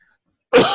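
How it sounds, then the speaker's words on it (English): A single short, harsh cough bursts out abruptly after a half-second of silence, close and fairly loud. "you'll have to forgive me, I still have a bit of a cough."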